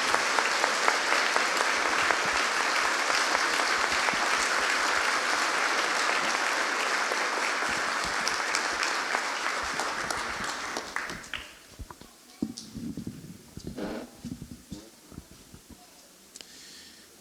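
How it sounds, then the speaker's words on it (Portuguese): Congregation at a Catholic Mass for a deacon's institution breaks into dense, sustained applause that fills the church, then thins out into scattered claps and small noises near the end. "Uma salva de palmas"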